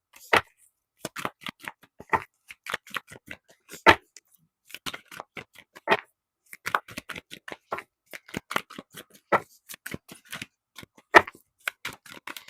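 Playing cards shuffled for a pick-a-card reading: a quick run of crisp riffling clicks and snaps in short, irregular bursts with brief pauses between, close to the mic and moderately loud, no talking.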